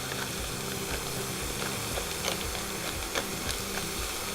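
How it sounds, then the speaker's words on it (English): Mushrooms frying with spices in a pan, giving a steady, dense sizzle with faint crackles and light stirring throughout, with no talking. "So we're just going to let the mushrooms fry for a couple of minutes."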